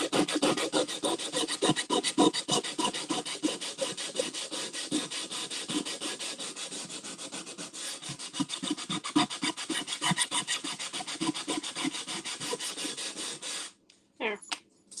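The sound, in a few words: scrubbing rust off a cast-iron pan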